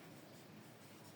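Handwriting with a pen, a faint, brief scratching of strokes on paper, heard alone and very quiet.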